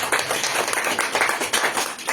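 An audience in a village gathering applauds to welcome a guest, a brisk, dense patter of many hands clapping throughout.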